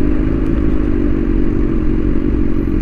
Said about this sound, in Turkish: Bu arada motora susturucuyu taktık.